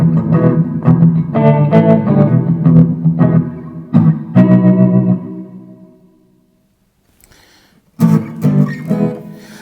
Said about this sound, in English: you've got some really great effects there on the clean sound